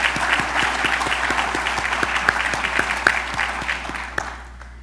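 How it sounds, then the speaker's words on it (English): An audience at a port keynote address claps in a thick burst, with a few sharp individual claps standing out, before the applause thins and fades near the end. "And that's worth an applause"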